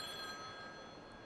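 A telephone rings in a Turkish sitcom scene, a steady electronic bell tone held across the whole short stretch at moderate level with no talk over it.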